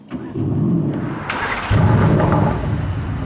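A Mercedes-AMG GT R Pro fires into life up close: a short starter whirr, then a sharp bark as the engine catches and settles into a loud, rumbling idle with no talking.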